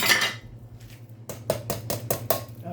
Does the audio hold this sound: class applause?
no